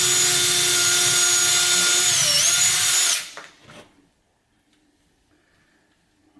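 A power drill fitted with a regular drill bit bores through a house wall, a loud, steady high-pitched whine lasting about three seconds before cutting off, followed by a few faint scrapes and near silence.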